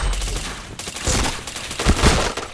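Rapid bursts of video game gunfire, dense overlapping shots firing near and loud in quick succession with almost no pause, no voices over them.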